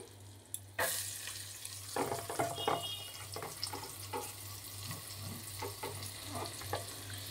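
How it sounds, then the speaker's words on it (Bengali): Chopped garlic dropped into butter and oil in a pan for butter prawns, a sudden loud sizzle that keeps crackling steadily with occasional stirring scrapes, close and alone. "এবার আমি দিয়ে দিচ্ছি রসুন কুচি"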